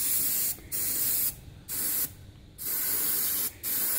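An airbrush fed by a compressor at about 20 psi sprays weathering onto a 16t mineral model wagon in four steady hissing bursts with short pauses between, close and clear.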